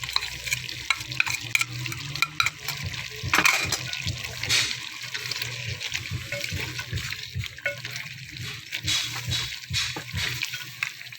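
Chicken karahi with added spices and fried onions is stirred in a pan, giving wet, uneven scraping and mixing sounds over a soft frying sizzle, fairly close and continuous with no speech.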